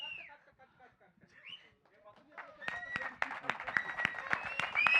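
Audience clapping and cheering breaks out at a film pre-release press meet, swelling from scattered claps into sustained applause with whistles, following a stretch of spoken dialogue.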